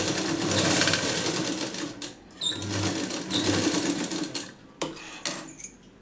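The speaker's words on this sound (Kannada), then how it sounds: "ಎಷ್ಟು ಸ್ಮೂತಾಗಿ ಆಗುತ್ತೋ ಅಷ್ಟು ಸ್ಮೂತಾಗಿ ಬಟ್ಟೆನ ಕೊಟ್ಟು ಸ್ಟಿಚ್ ಮಾಡ್ಕೊಳ್ಳಿ." A sewing machine stitches blouse fabric in loud, close bursts of rapid rhythmic clatter, pausing briefly between runs, with faint clinks of handling.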